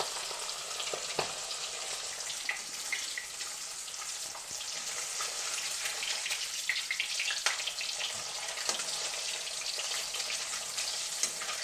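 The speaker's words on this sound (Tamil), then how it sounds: "எல்லா ஃபிஷ்ஷையும் வறுத்து எடுத்துடலாம்" Fish pieces frying in a pan full of oil for a homemade fish fry, a steady bright crackling sizzle running the whole time with a few sharper pops and no voices.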